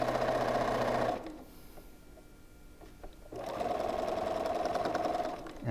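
A sewing machine stitches a quilt block seam, whirring loudly and steadily for about a second, pausing through a quiet stretch, then running again at an even pace to the end.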